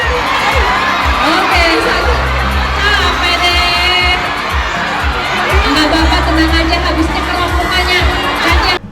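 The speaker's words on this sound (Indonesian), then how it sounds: "Teriakan para fans pun semakin heboh." Dense crowd of fans screaming and cheering excitedly at a fan meet in Jakarta, continuous and loud with high shrieks throughout.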